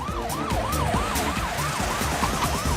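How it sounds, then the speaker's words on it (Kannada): A cartoon ambulance siren wails in a steady rising-and-falling sweep, repeating about every half second, loud and continuous under a busy animated score of plucked notes and bass, with vehicle rumble beneath. "ಆಂಬುಲೆನ್ಸ್ ಫಾಲೋ ಮಾಡ್ತಾ ಇದೆ."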